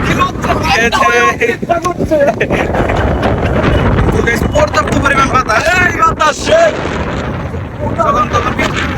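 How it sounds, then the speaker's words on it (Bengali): Strong wind roars and buffets the microphone throughout, with people talking over the gusty rush. "এই যে প্রচন্ড পরিমাণ বাতাস হচ্ছে মনে হয় বৃষ্টি নামবে"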